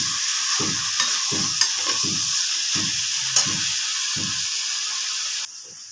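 A vegetable curry with ground spices sizzles in a pan under a steady frying hiss, while a spoon scrapes and stirs in a rhythmic series of about ten strokes, close up, with no talking.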